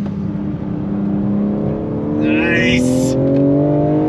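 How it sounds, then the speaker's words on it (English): A 2022 BMW M4 Competition pulls hard through the gears, its engine note climbing in steady sweeps with brief ignition-cut breaks at each shift, loud and close throughout, while a voice briefly speaks over it. "I love the way the ignition cuts for a nanosecond to allow you to shift from gear to gear to gear"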